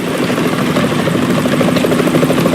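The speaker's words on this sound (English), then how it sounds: "Is that a chopper I just heard?" A helicopter's rotor thumps steadily and loudly throughout in the video game Metal Gear Solid 2, a continuous rhythmic chop with engine whine, close and sustained.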